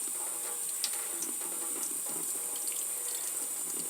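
Cold tap water running steadily from a faucet over a small plastic figure's hand, a continuous close hiss with faint occasional clicks, no voices.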